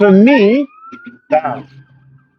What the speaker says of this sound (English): When Tottenham, you're gonna hear the sirens